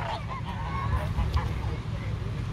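Ducks being fed bread at the water's edge in the Netherlands honk and call loudly nearby over steady outdoor background noise, with faint voices mixed in.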